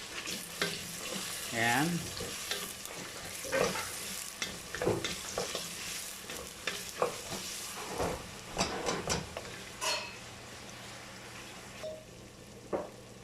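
A large batch of onions fries in a pan for chicken biryani, giving a continuous close sizzle broken by repeated scraping stirs and clatter, with a brief voice near the end.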